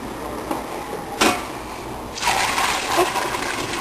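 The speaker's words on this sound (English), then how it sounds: "I'm going to pour it into these jars." Brewed black tea pours in short bursts into jars, a gushing splash followed by a longer steady stream filling a container, close and moderately loud.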